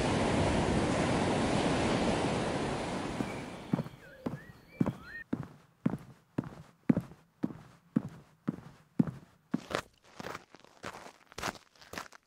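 Surf breaking on the beach at Tapia on the Asturian coast: a broad wash of waves for the first few seconds, then a steady series of crunching footsteps walking on sand or gravel, close and distinct.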